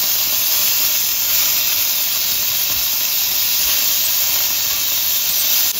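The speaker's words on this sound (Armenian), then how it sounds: "Հիմա ստուգում ենք հավի կտրամիսը և տապակում հաջորդ կողմից։" Chicken breast fries in a pan with a loud, constant hissing sizzle that holds evenly close to the microphone throughout, with no voices.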